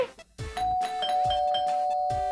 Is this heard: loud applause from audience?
no